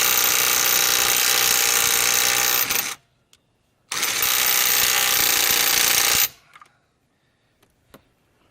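A Bauer 20 volt cordless impact driver hammers on a half-inch stud in two loud, close, sustained bursts of rapid rattling impacts, each a few seconds long, separated by silence.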